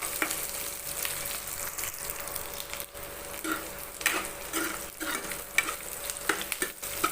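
Okra and onions sauté in a pan, frying steadily with a bright sizzle. A spoon stirs them again and again, making irregular scraping and clinking close by. No one speaks.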